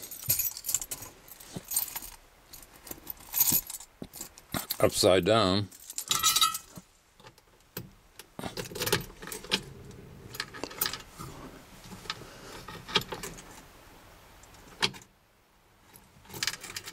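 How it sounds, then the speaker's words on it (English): Car keys jangle and clink as they go back into the ignition of a 1964 Ford Galaxie, metallic rattles bursting repeatedly across the clip while someone talks over them. "What do I do with the keys? Let's put the keys back in."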